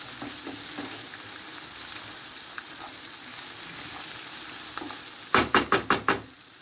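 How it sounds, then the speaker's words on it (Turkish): Kokoreç with chili flakes in a pan: a steady hiss of frying throughout, then a quick burst of five or six sharp rhythmic knocks as a utensil strikes the pan while stirring. "pul biberini de döktüm. Şimdi böyle karıştıracağım."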